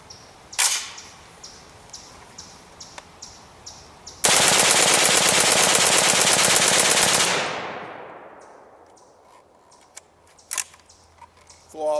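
An HK-91 rifle fed from an extended magazine fires a long, loud, rapid string of shots lasting about three seconds, after scattered metallic clicks and handling noises, then a fading echo.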